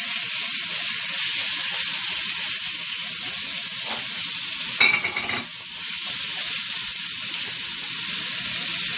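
Chicken seasoned with sofrito, garlic and adobo frying in a pan, a constant loud close sizzle with a brief burst of stirring clatter partway through.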